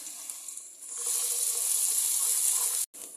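Sliced onions fry in a pan over lowered heat, giving a steady bright sizzle that swells after the first second and runs on loud and close before a brief cut near the end.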